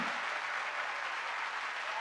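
A studio audience at the Winter Gardens Pavilion in Blackpool claps in a steady, dense wash of applause that holds at an even level throughout, with no voices rising above it.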